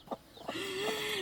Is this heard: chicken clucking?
yes